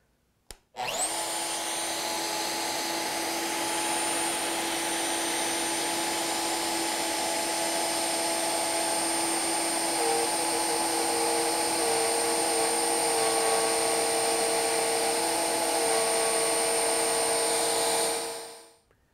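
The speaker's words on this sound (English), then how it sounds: "I finished cutting my stopped dados" A router cuts stopped dados in wood, giving a loud, steady high-pitched motor whine that starts abruptly and holds for about seventeen seconds before winding down, with no talking.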